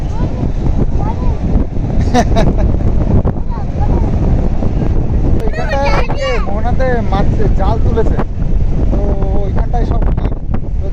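Strong wind buffets the microphone in a steady roar on an open river mouth where fishing nets are being hauled, with people talking and laughing throughout.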